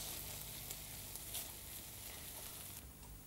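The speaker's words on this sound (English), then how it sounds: "And we now slowly simmer this for 20 minutes." A tomato-style sauce with oregano simmers in a pan, giving a soft, steady sizzle and faint bubbling throughout, with no voices.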